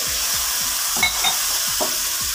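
Tomato masala sizzles loudly in oil in a pan for kadhi pakora, with repeated scraping stirs and a few clinks as water goes in, close and continuous without speech.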